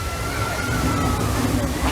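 Water sloshes steadily and loudly around a boat on the Na'vi River Journey ride in Pandora at Animal Kingdom, a continuous churning wash with faint crowd babble beneath.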